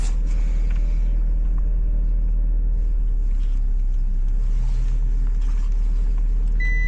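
A camper van driving along a clear road, heard from inside as a loud, constant low engine and road rumble with faint rattles.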